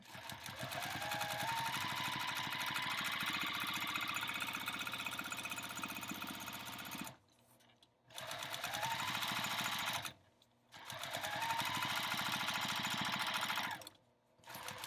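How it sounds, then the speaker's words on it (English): Sewing machine stitching binding onto a quilt, a fast steady mechanical whirring that runs continuously for long stretches, broken by three brief stops. "I'm going to do a couple of lock stitches and then just sew the rest of it."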